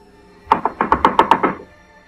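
Loud, frantic knocking on a door, about eight rapid heavy thuds in a quick burst, close and alone with no voices.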